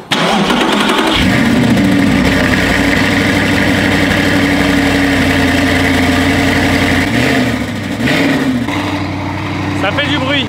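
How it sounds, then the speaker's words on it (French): A supercar engine idles with a loud, rough, rumbling exhaust drone that holds steady for about ten seconds, with a slight dip and recovery in pitch near the end. "il est temps de vous faire écouter un petit peu le bruit du moteur"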